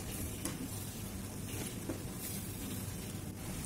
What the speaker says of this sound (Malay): bila dah naik minyak, boleh masukkan udang